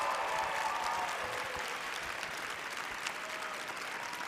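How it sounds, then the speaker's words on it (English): Theater audience applause for Miss USA contestants at the Miss Teen USA final competition, a broad, even wash of clapping from a large crowd, sustained and distant in a big hall. "Let's give them a round of applause."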